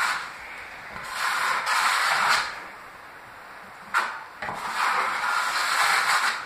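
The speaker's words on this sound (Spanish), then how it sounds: "En este caso tomo una llana de plástico," A plastic trowel sweeps drywall joint compound across plasterboard in several scraping strokes with short pauses between them, heard close up.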